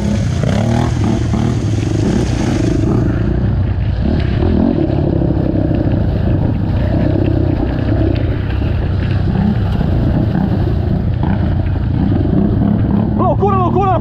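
Several dirt motorcycles rev and roar on a rain-soaked muddy trail in Imigrante, Rio Grande do Sul, engines droning loud and steady throughout with voices talking over them.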